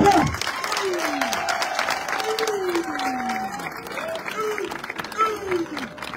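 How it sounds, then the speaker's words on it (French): A political rally crowd in Mitzic, Gabon, applauds a project for candidate Alain-Claude Bilie-By-Nze, loud, continuous clapping with rising and falling whistle-like tones sliding over it. "si on peut applaudir pour ce grand projet"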